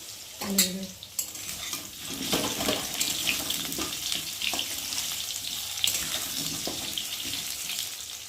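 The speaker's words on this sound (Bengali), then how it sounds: "তো দেখো চালটা ভালো করে ধুয়ে নিয়েছি, আর এখন পরিষ্কার জল বেরোচ্ছে, আর জলটা আমি এখন ফেলে দেবো।" Water is poured off rice in a home kitchen after rinsing it four or five times for khichuri. A steady watery splashing and trickle continues over a background of stirring and sizzling from a pan.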